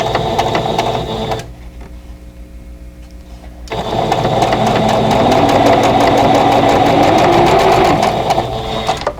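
A sewing machine runs steadily while stitching a quilt block, its rapid motor hum starting, pausing briefly, then resuming louder and continuing to the end.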